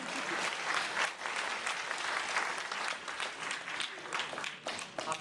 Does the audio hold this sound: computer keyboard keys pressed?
no